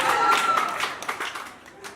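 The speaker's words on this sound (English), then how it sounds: "Hey, clap for me" An audience claps at a talk, a close burst of hand claps that thins and fades over a couple of seconds, with faint voices mixed in.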